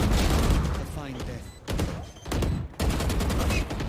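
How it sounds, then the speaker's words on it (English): Gunfire bursts and shots in the Valorant tactical shooter during an esports match, loud and continuous, under excited caster commentary. "Kizo pushes and gets a headshot."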